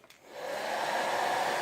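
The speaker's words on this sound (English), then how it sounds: "you can use a hair dryer" A hair dryer clicks on and ramps up into a steady, close, broadband blowing roar, used to dry alcohol off an Aromis diffuser motor.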